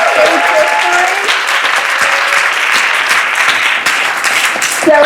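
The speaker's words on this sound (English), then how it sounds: "I think we should have another round of applause." A room of panel attendees at a state government event gives a steady round of applause, dense and fairly loud, while faint voices murmur underneath.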